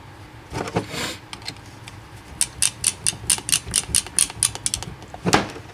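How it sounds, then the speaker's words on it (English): A ratcheting driver turns the small countersunk screws that hold a Jeep JK dust cover back in place, giving quick bursts of rhythmic clicks close by after a few softer handling knocks. "Go ahead and rescrew your dust cover back on."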